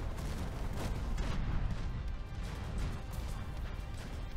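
Tank under enemy fire in a military video game, a dense barrage of booming impacts and crashing hits that roll continuously over rumbling low-end noise, loud and close with no speech.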